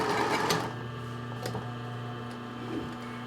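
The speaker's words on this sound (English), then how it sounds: "I'm just going to sew back and forth and closing it" A home sewing machine runs a short back-and-forth backstitch on a sewing project, a steady mechanical whir with a ticking needle rhythm and a few clicks of the machine, close and fairly quiet, with no talking.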